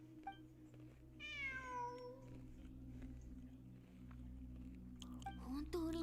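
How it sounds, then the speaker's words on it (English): A cat meows in a video game, one drawn-out rising and falling meow standing out over a low, steady game soundtrack, with a brief squeaky sound near the end. "本当に猫がいる"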